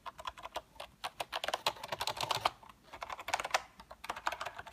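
A new computer keyboard being typed on up close, rapid irregular clacking keystrokes in quick bursts with brief pauses, crisp and fairly loud with no talk.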